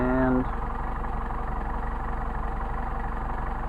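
A Mercedes 190SL engine with Solex 44PHH carburetors idles with a low, steady, even rumble close by after a brief higher tone at the start, its idle speed set too low.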